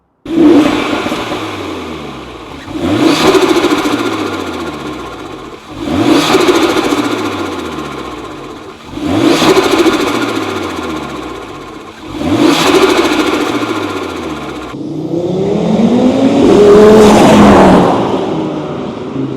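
An Audi RS3 8V turbocharged engine with an aftermarket CTS Turbo intake revs up repeatedly through the gears, each pull rising then dropping, ending in a loud, sustained acceleration with intake whoosh.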